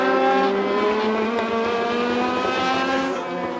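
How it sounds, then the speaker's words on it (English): Race car at a dirt-track heat race braking hard into turn 1 with tires skidding, a loud sustained engine whine with shifting harmonics and scraping tire noise close by, no talk. "Wearing out the brake pads is Cale Slater, just avoiding the wall in tu"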